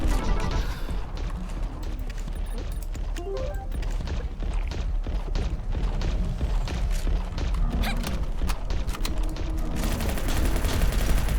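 Rapid gunfire and bursts crackle through a dense, chaotic firefight in the game League of Maidens, with clattering impacts and crashes layered over a constant loud din from start to finish.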